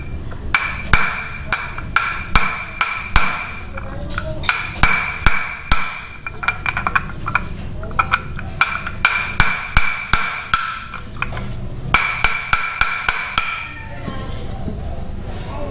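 Repeated sharp metallic hammer strikes come in quick bursts with short pauses, ringing bright and close as a torque drive bearing is driven into place on a Yamaha NMAX V2 scooter.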